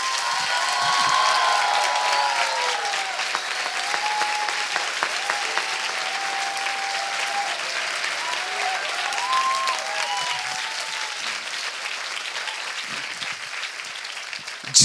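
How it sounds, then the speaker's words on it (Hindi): A church congregation applauds continuously for about fifteen seconds, a dense, even wash of many hands clapping, with faint tonal sounds beneath. "आइए यीशु के लिए एक अच्छी ताली बजाएं।"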